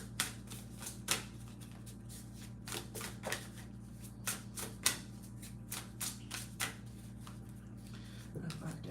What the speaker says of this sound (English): I'm gonna pull a card here.